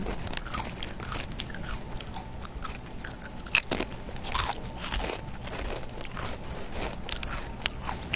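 Close-up chewing while eating, with steady crunching and crackling bites repeating throughout and no talking.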